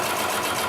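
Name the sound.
Consew 733R-5 sewing machine sewing through thick leather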